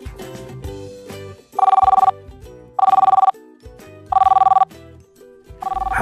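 An old-style telephone bell rings in three loud, evenly spaced trilling bursts with a fourth starting at the end, heard over soft background music.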